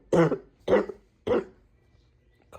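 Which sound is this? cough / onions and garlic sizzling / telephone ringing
cough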